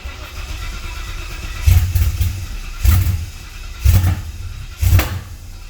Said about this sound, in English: let's get this thing turned on, make sure everything's happy, and see how many things turn off once the car's running